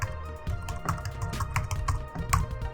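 Rapid, close clicking of keys being typed on a computer keyboard, an even run of soft taps with no talking.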